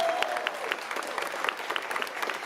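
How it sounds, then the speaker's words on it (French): Festival crowd applauding an actress introduced as jury president at a horror film weekend, steady dense clapping throughout at moderate distance, with no talk over it. "Je vous demande d'applaudir Heather Langenkamp"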